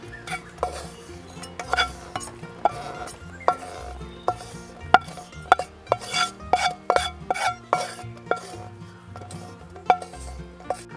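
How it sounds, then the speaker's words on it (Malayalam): Grated coconut is stirred and roasted in a pan, with repeated sharp metallic scrapes and clinks of a spoon against the pan coming in irregular bursts, close and fairly loud. "ഇത് നമുക്ക് ഇളക്കി ഈ തേങ്ങയുടെ കൂടെ ഇത് മൂപ്പിച്ചെടുക്കുക"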